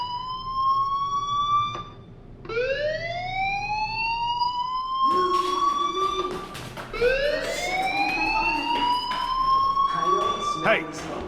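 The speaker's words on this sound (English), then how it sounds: "Hey, do you hear that fire alarm?" A fire alarm in the video game Life is Strange wails in repeated rising sweeps, loud and insistent, each whoop climbing in pitch before restarting.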